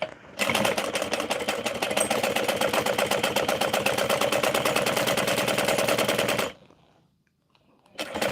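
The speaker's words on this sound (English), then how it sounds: "So I'm going to sew a couple backward stitches." A sewing machine runs in one fast, unbroken burst of rapid mechanical stitching for about six seconds while sewing backward stitches, stops abruptly, and after a short silence starts up again.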